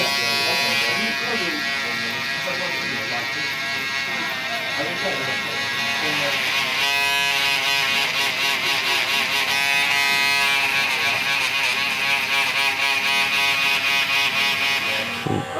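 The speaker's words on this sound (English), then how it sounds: "So I'm now going to go up with the zero. Just flick that up, which is about half an inch." Electric hair clippers buzz steadily and close up while cutting hair around the foils during a barbershop haircut, a loud continuous drone with slight shifts in pitch as the blade moves through hair.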